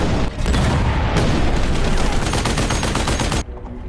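Gunfire and cannon blasts in an action film battle, a loud, dense run of rapid shots and booming impacts that rattle on for a few seconds before dropping away abruptly.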